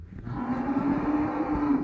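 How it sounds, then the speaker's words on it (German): Cattle on a farm give a single long, low moo that is close and steady for nearly two seconds, with no talk over it. "Oh, unsere Kühe."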